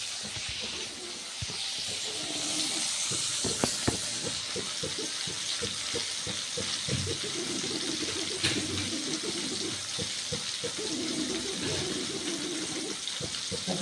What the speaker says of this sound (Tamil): இங்கே பாருங்கள், வதங்கிக்கிட்டு இருக்குன்னு பாருங்கள்